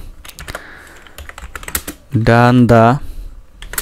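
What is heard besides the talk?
typing on a computer keyboard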